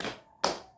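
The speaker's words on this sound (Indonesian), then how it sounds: "Buka tutup, bertepuk tangan." A pair of single hand claps in a classroom, a sharp clap at the very start and another just under half a second later, close and clear with no talk.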